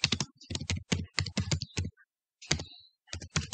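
Fingers type a school name on a computer keyboard in quick bursts of close, crisp key clicks, with one short pause midway before the tapping resumes.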